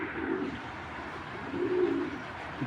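Big stone-eyed racing pigeons coo softly nearby, two low rolling coos rising over a quiet background.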